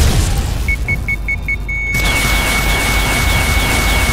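Rapid gunfire sprays in a Granny horror video game, a dense, loud, continuous burst of shots that follows a short series of evenly spaced electronic beeps, with no talking.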